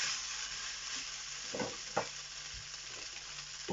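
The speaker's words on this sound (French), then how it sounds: "on va mettre les saucisses avec l'échalote et l'ail. Là ça va parfumer un peu le riz. Voilà, on va mélanger." Sausages, shallot and garlic fry with rice in a pan, giving a steady sizzle broken by a few scraping stirs, with no voice heard.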